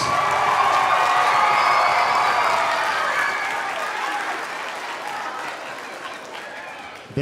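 An audience at an All-City Orchestra concert applauds the teachers, loud dense clapping with cheers and whoops that gradually fades toward the end.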